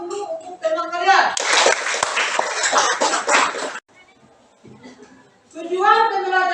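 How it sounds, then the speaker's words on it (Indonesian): Classroom of students applauding a classmate's poem: a dense, even burst of clapping lasting a few seconds, framed by a teacher speaking before and after. "berikan aplaus dulu untuk teman kalian"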